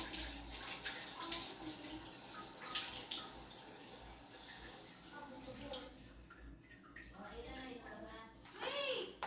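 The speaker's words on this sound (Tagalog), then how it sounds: "Ito yung kanilang shower." Hotel shower water runs with a soft, steady hiss and splatter while people talk nearby, faint and indoors.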